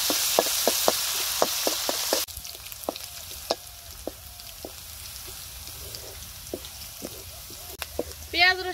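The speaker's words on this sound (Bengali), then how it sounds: "পেঁয়াজ রসুন লাল লাল করে ভেজে নিছি" Onion, garlic and green chili frying in oil in a pan, a steady close sizzle with sharp crackles and spatters that drops quieter partway through as the pan settles, with occasional clinks of a spoon.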